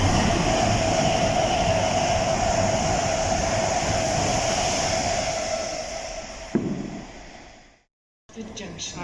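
Train running along the track at Wembley Central station, a loud steady rumble and rattle of passing carriages that fades toward the end, cuts briefly to silence, then returns faintly.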